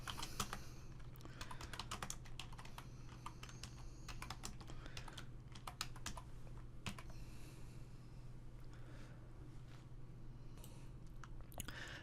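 Close, quiet typing on a computer keyboard in a text editor, with rapid irregular key clicks continuing throughout under a steady low hum and no talking.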